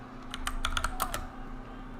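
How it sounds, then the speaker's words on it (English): Quick bursts of typing on a mechanical computer keyboard, a run of sharp close clacks that fades after about a second, with no one speaking. "I have a mechanical keyboard. That's why this is so annoying."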